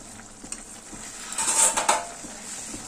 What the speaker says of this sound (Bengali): এবার এইভাবে ঠিক খুন্তিটা ঢুকিয়ে আলতো হাতে একটু নেড়ে দিতে হবে যাতে তলায় পুড়ে না যায়